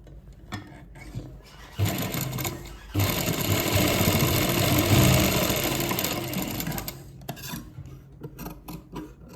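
A sewing machine stitches a folded shirt collar right along the buckram edge, its motor whirring in a steady close run that starts up, holds for several seconds, then slows and stops, with light ticking before and after.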